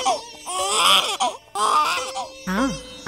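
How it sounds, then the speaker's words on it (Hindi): A baby cries in repeated wailing bursts with short pauses, loud and close, on a staged school annual-function play. "लगता है कोई बच्चा रो रहा है।"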